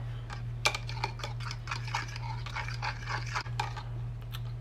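Quick, close whisking and tapping of a utensil against a bowl as egg and melted butter are mixed for chocolate cherry scone batter, a steady run of light clicks over a constant low hum.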